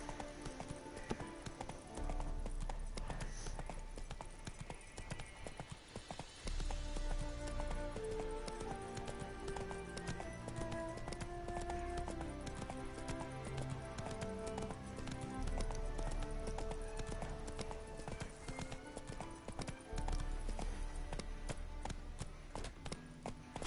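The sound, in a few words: horse Roach galloping, from a video game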